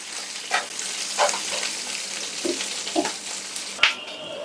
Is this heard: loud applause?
no